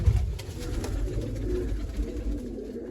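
Domestic pigeons coo steadily close by, a low throaty burbling that carries on through the whole stretch with no one talking over it.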